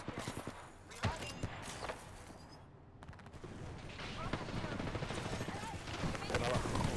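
Rapid video game gunfire rattles in dense bursts across the whole stretch, loud and busy, with brief gaps and a pause near the middle, mixed with other game effects.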